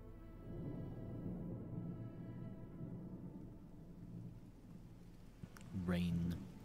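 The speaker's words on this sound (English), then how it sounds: "Rain." Steady rain in Silent Hill 2 Remake hisses and patters throughout, with a low rumble underneath and a brief louder swell near the end.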